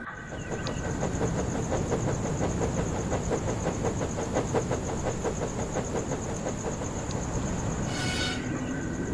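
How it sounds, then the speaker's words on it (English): A steam train rolls steadily along the rails with a continuous rumble and rhythmic clacking, and a brief high squeal near the end. "Thomas was being oiled up for his evening train"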